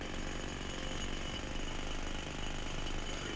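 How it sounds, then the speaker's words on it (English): A jackhammer pounds steadily at a construction site in Sniper Ghost Warrior 3, a dense, continuous rattling hammer that fills the short stretch alone without pause. "there's some guys working here with jackhammers and excavators, they might be loud enough not to have our shots heard"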